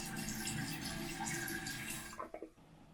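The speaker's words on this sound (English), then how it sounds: "I'll wait until the water stops flowing" Water rushes steadily into a toilet tank as the supply refills it after a flapper replacement, a constant hiss that fades and gives way to a few trickles and small knocks.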